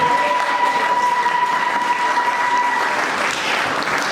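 Congregation inside a church breaks into steady, close applause, dense clapping that holds for several seconds, with a faint tone running beneath it for most of the stretch.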